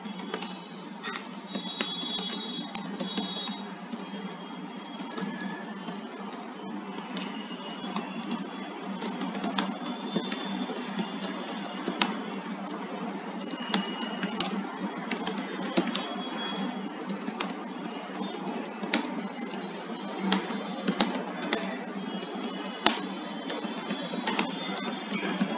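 Fingers tap continuously on a computer keyboard while someone writes social media posts, producing a dense, even stream of close clicks with occasional louder keystrokes and no talking.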